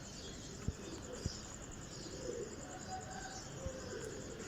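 Domestic pigeons coo softly outdoors as a flock flies overhead, low and faint, with a few sharp clicks and no talking.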